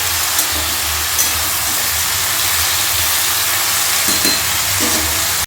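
Pui vegetable stalks frying with turmeric and salt in a pan give a loud, steady sizzling hiss that runs unbroken throughout, with a couple of faint clinks near the end.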